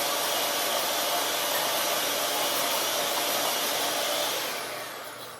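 An electric mixer whirs steadily, combining cake batter made with sour cream and milk for an apple cake, a loud, even, high motor hum that winds down at the end, with no talk.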